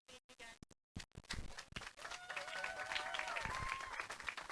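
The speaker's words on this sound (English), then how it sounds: "The applause for the winner of the female competition" Applause for the female competition winner at a sports finals event, a few scattered claps at first, then building into steady crowd clapping with some whistling.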